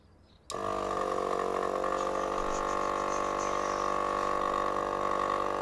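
An air compressor motor kicks on abruptly, inflating a ball, and runs with a steady, loud mechanical hum and whine, continuous and close.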